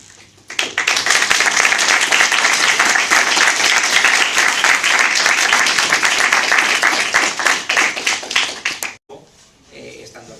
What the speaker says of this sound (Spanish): hay que agradecérselo con un aplauso enorme